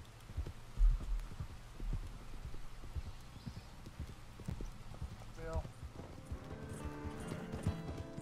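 Horse hooves clip-clopping at a quick riding pace in the video game Red Dead Online, close and steady, with someone talking over the hoofbeats and music rising toward the end.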